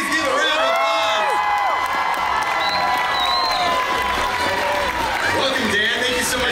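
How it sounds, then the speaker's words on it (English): A studio audience breaks into loud, continuous cheering, whoops and applause welcoming a guest onstage, with voices shouting over the clapping throughout. "Please give a round of applause."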